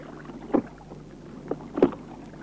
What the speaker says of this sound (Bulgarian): Лодката, господарю, иде